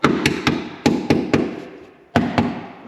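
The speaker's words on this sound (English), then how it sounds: "So I got my trusty awl." An awl jabs at the rotted floor pan of a 1965 Mustang convertible, producing sharp metallic taps in irregular bursts of two or three, loud and close, each ringing briefly before fading.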